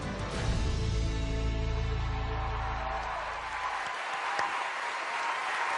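A studio audience on a weight-loss competition show applauds and cheers in a steady, loud wash under swelling music that fades out partway through, leaving the crowd noise alone.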